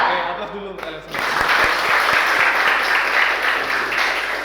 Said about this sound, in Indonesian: aplaus dulu untuk kalian semua